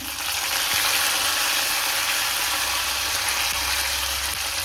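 Green chillies and curry leaves, added after garlic, sizzle steadily in hot oil while palak pappu is being cooked, a dense, even frying hiss that holds at a constant loudness with no talking.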